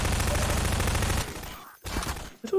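Rapid SMG fire from Combine soldiers in a Half-Life game rattles in a dense, loud burst for over a second, followed by scattered shots and echoes.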